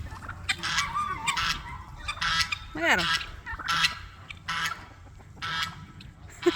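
Ducks on a homestead calling in short honking bursts, one rising, wavering call standing out midway, while a person talks nearby over steady outdoor background noise.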